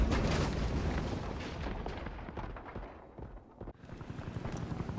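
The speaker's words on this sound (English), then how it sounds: "Enemy airstrike fast approaching." Heavy explosions from an enemy airstrike in the war video game World War 3 roll together into a dense, continuous barrage of deep booms and rumbles, loud and close, easing briefly before building again.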